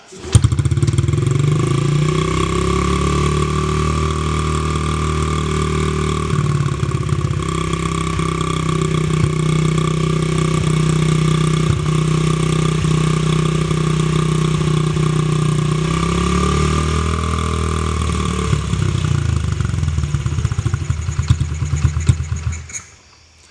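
Honda CRF50F dirt bike with a fire-damaged engine, started on choke: a small single-cylinder engine catches and runs steadily at close range, its idle wavering in pitch before cutting off near the end, with no talk over it.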